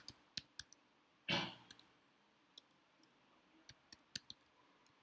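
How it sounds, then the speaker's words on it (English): Keystrokes on a computer keyboard while a domain name goes into a browser address bar, sparse sharp clicks scattered unevenly, with one louder rustling burst near the start, quiet and close. "I'm typing the name of the domain here in the address bar"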